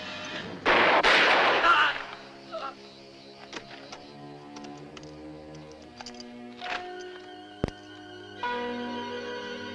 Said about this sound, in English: Let's shoot it out, Hart.